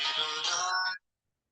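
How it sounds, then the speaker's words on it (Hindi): A phone ringtone sounds in a classroom, a bright melodic electronic tone playing steadily for about a second before cutting off abruptly into silence. "किसका फोन है भाई।"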